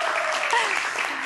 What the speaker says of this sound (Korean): 네, 박수 쳐주세요.